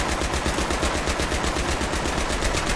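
Rapid automatic gunfire in the video game Battlefield 3, a loud, unbroken burst of fast, evenly spaced shots running the whole time with no talk.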